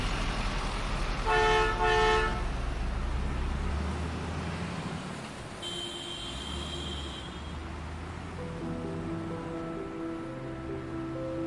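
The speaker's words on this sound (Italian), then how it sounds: "l'autista che la portava via fece due lunghi colpi di clacson" A truck's horn sounds in two long honks, one early and one midway, each loud and sustained over steady low traffic rumble, followed by a lower droning tone near the end.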